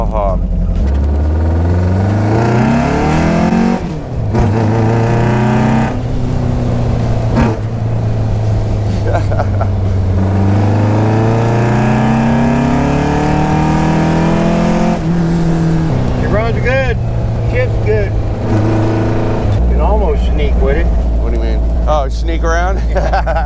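A 1979 custom Volkswagen Baja Bug engine running loudly nearby, its pitch rising and falling through revs and gear changes, with a sharp drop in between, and people talking over it.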